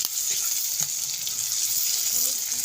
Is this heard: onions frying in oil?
yes